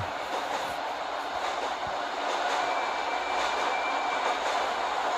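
A subway train runs in the video game Subway Simulator 3D, a steady broadband rumble and rush of wheels on track with faint rhythmic clicks, continuous and fairly loud with no talk.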